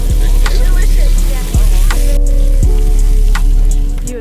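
Bacon sizzles and crackles steadily in a pan over a campfire, a dense continuous fry with a few sharp pops standing out, close and loud with no talking.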